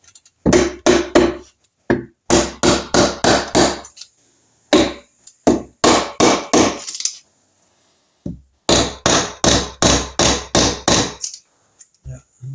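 A hammer taps an engine part home during crankcase assembly on a Triumph Trident T160 rebuild, sharp repeated knocks in quick clusters of five or six blows with short gaps between groups.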